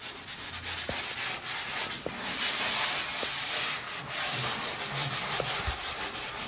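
Interior walls are sanded by hand to prep them for painting, a continuous close scratching rub with a few sharp clicks and taps scattered through it.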